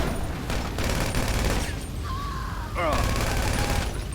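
Rapid gunfire in a police chase video game, dense bursts of shots rattling loudly across most of the stretch, a brief lull midway, with a few whistling tones mixed in and no talking.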